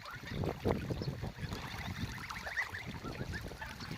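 Young goslings being raised for weight gain honk and chatter in overlapping bursts, near and fairly soft, with an irregular rhythm over a few seconds.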